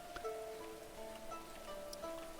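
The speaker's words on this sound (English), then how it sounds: "It is raining outside, so it's gonna be a little louder than usual" Rain falls steadily outside a settlement in Going Medieval, a continuous patter under soft tonal game ambience with scattered drop sounds.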